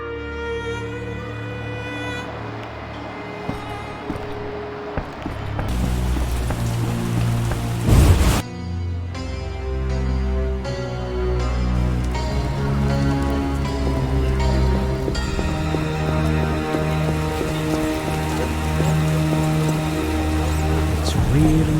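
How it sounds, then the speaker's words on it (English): Heavy rain pours steadily in a scene from the video game The Witcher, a dense wash of downpour running under loud orchestral music for the whole stretch. "It's really raining."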